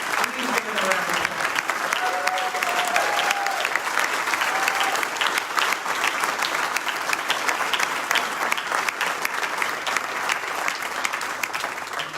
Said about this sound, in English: Please give it a round of applause.